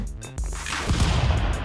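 Gunfire bursts out in Stick Fight, a sharp shot followed by a loud, dense rattle of rapid fire and explosive noise, close and harsh.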